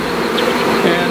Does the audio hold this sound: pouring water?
no